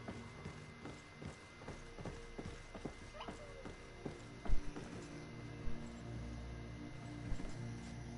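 Horse hooves clip-clop unevenly on hard ground, fairly faint, with occasional louder knocks and a low rumbling background.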